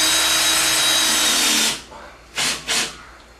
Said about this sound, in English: I'm going to use a drill and the screw